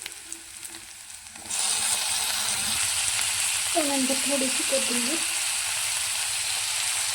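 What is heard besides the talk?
onion and tomato frying in a pan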